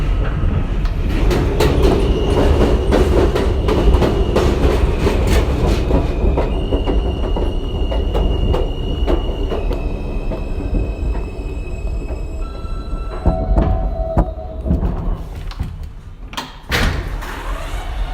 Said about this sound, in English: This is a Middle Village Metropolitan Avenue bound M local train.